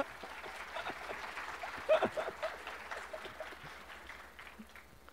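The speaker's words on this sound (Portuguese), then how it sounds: "Então, salva de palmas pro meu irmão, Davi." A small audience at a programming keynote on dynamic programming claps quietly. The scattered, faint clapping swells briefly midway and then tapers off.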